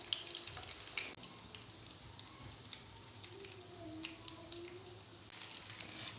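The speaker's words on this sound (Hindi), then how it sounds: "साइड से भी 2 मिनट के लिए फ्राई करेंगे" Vegetable cutlets fry in hot oil in a home kitchen, a steady, quiet, close sizzle with faint crackles and small pops running throughout.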